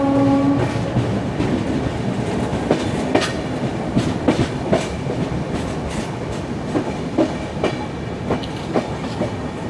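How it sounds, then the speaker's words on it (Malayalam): An LHB passenger train speeds along the main line near Diva in the Mumbai area, a dense rolling rumble with repeated clickety-clack wheel beats over rail joints, heard close and steady throughout. "മെയിൻ ലൈൻ വഴി ഒരു LHB ട്രെയിൻ പാഞ്ഞ് പോകുന്ന കാണാൻ വേണ്ടിയിട്ടുണ്ടാവും."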